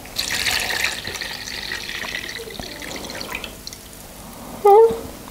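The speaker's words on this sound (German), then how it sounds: "Wenn ich jetzt drücke, kommt die Nässe wieder raus." Liquid is squeezed out of a soaked diaper in an absorbency test, giving a watery trickle and drips, fairly close and soft, ending with a brief louder splash.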